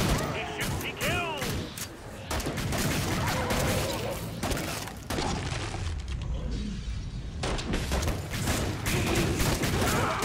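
Gunfire in the video game Killing Floor 2 during a hard Burning Paris outbreak round, with repeated sharp shots and bursts among busy combat noise, and someone talking over it.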